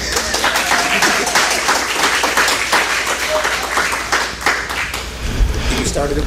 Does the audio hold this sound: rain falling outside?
no